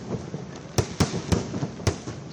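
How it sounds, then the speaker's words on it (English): Diwali fireworks and firecrackers bursting over New Delhi, with four sharp loud bangs spaced irregularly over a steady crackling, hazy background rumble, heard without talk. "Last night, fireworks lit up the city and surrounding areas as revelers marked the occasion."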